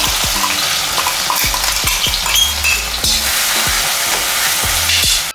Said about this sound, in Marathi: त्यात आपण हे वाटलेलं मिरची, लसूण, जिरा, ओवा हे चांगलं तळून घेऊ।